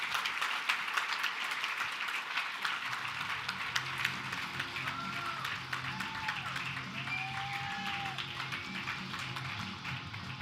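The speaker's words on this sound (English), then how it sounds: "Give him a round of applause." Audience applause at a live business conference stage event as a guest comes up, moderate and slightly distant, continuing under background music with sustained tones and a few sliding notes.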